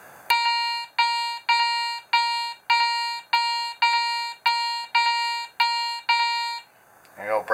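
Garrett Ace 300i metal detector sweeping a late-1880s brass buckle gives a rapid series of about ten identical bright electronic beeps in steady rhythm, each a sharp tone, followed by a brief voice at the end.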